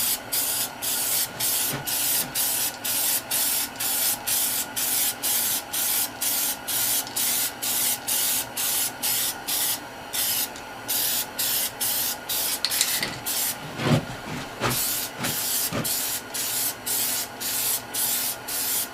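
Aerosol spray can laying yellow tint coats onto a car headlight on an Infiniti G35, short close hissing bursts repeating in a steady rhythm with brief gaps, one longer pause midway, and no talking.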